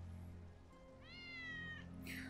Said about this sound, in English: I didn't know Wedge had a cat.